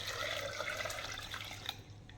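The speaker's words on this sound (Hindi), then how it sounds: "एक बाउल इसमें डालेंगे पानी।" Water from a bowl poured into a pressure cooker while preparing chocolate cupcakes, a steady splashing pour heard up close for about two seconds before it tapers off.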